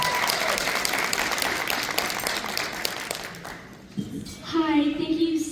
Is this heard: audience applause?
yes